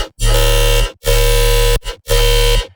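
A Serum-made dubstep bass, run through reverb using a NASCO sustain bass as its impulse response, blares in three long, loud, buzzing metallic sustained notes separated by brief gaps, heavy and saturated.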